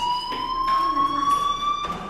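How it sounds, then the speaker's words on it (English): A fire alarm rings inside the video game Life is Strange, a loud steady electronic tone pulsing in short repeated bursts, close and alone. "do you hear that fire alarm? That means you should be outside."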